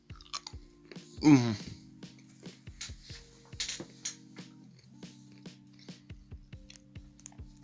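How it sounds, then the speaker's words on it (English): Someone bites into Galaxy caramel chocolate with one sharp, close crunch, followed by quieter chewing clicks and mouth sounds, with a brief bit of speech. "as soon as you hear that that crunch is just when I can taste the intenseness of caramel"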